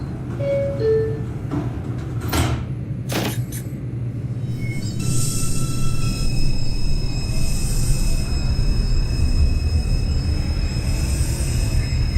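An NYC Subway R142 train on the Manhattan-bound 2 line in the OpenBVE simulator gives off a steady, close low rumble. A few brief high squeals and tones sound early, and faint whines linger over the drone.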